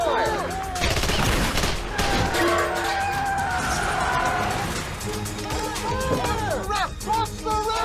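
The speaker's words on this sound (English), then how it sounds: "Open fire!" Heavy gunfire erupts in a 2011 pandemic thriller film scene, dense overlapping bursts and shots crackling nonstop over shouting voices and commotion, loud and close throughout.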